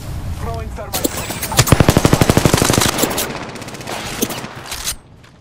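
Rapid automatic gunfire in Apex Legends, a loud dense burst of evenly spaced shots followed by scattered single cracks and more firing, with a voice heard briefly amid the shooting.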